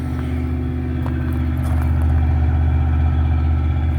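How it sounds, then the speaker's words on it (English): Buick LeSabre engine idling a bit high, a steady close rumble with a faint rhythmic pulse and slight rise in loudness partway through, no voices. "I gotta tune down that idle a little bit"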